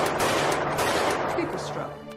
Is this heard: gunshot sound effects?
yes